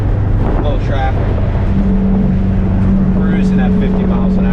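A modified 1976 Porsche 912E cruises in fourth gear at about 50 mph on a quiet road, its engine a steady, loud, low hum with road noise. Voices are heard inside the car.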